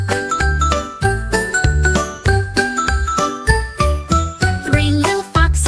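Bright bell-like jingles and tinkles ring out repeatedly over a bouncy children's song with steady bass and melody, loud and upfront throughout.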